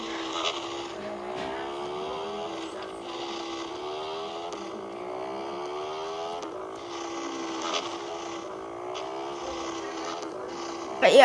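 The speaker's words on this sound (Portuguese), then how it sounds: "Esse escape tá fazendo muito barulho." A friend's motorcycle with a noisy aftermarket exhaust drones loudly and steadily as it rides, its engine note rising and falling in repeated revving sweeps, up close and without talk.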